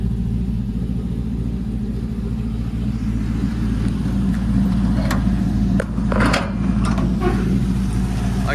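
A 1952 Chevy 3100 short-bed pickup with a built 5.3 LS V8 and new exhaust idles steadily with a low, continuous rumble, close by, with a few faint clicks and knocks over the top.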